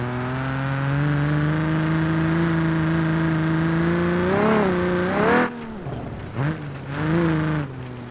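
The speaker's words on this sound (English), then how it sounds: "Not bad sounding engine." A car engine in an off-road baja racing game, idling with a steady hum, then revving up sharply several times in quick bursts, loud and close with no talk.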